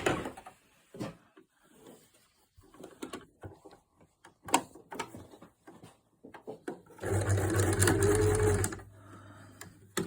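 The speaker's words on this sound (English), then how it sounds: "all I'm going to do is sew along this edge here with a 1/4 inch seam" A sewing machine stitches along the edge of a patchwork quilt binding with a 1/4 inch seam, a loud steady motor whir that runs for about two seconds after scattered handling clicks and rustles of fabric.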